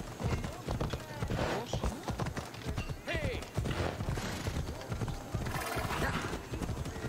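Horses gallop with a steady clip-clop of hooves and let out neighs and whinnies in an E3 2018 video game trailer, the hoofbeats running continuously at moderate loudness with voices and other sounds mixed in.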